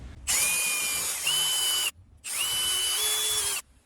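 Two close, loud bursts from a power drill boring holes in wood for a fishing rod holder, each a high steady whine lasting over a second with a short pause between, no talk.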